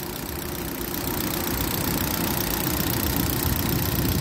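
A car with a 1.6 litre petrol engine idles at a used car market, a steady, continuous rumble with a slight knock, close and fairly loud, and no one talking.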